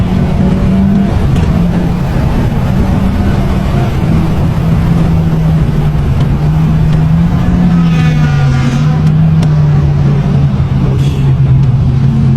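Toyota Vios GRS race car lapping Sepang circuit, its engine droning steadily and loudly throughout with a slowly shifting pitch, heard from inside the car without any talking.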